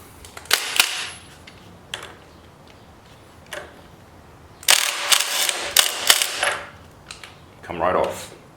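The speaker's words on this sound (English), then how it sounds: "impact gun" Impact gun taking the sprocket nut off a Yamaha WR250R with the bike in gear, sharp loud rattling bursts in several separate runs, the longest near the end, with quiet gaps between.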